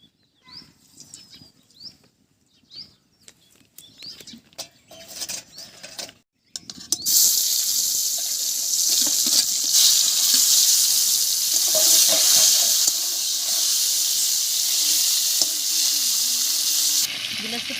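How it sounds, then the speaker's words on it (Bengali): Shol fish frying in hot oil over a village-style cooking fire: a quieter stretch of faint clatter and some talk, then a loud, steady sizzle that fills the rest. "এদিকে মাছগুলো ভাজা হচ্ছে"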